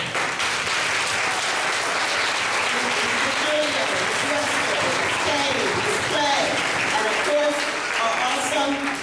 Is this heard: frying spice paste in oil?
no